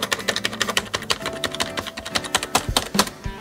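Rapid, steady typing on an Aula F2088 membrane keyboard, a dense run of soft, close keystrokes with an irregular rhythm and no voices.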